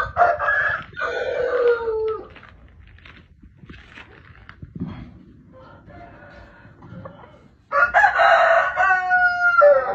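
A rooster crows loudly and close by at the start and again near the end, with softer clucking from hens in between, one cock kept with three hens of a Thai-American fighting breed.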